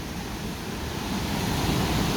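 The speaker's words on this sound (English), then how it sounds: "And there's some water flowing here" River water rushes steadily through a bypass channel, a loud continuous broadband roar that swells slightly, heard alone without voices.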